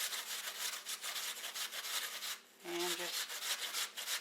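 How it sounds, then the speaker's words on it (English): An apple rubbed against a hand grater in steady, close scraping strokes, a continuous rasping texture with a brief lull midway, and a voice speaking faintly under it. "just turn your apple around and grate till you come to that point."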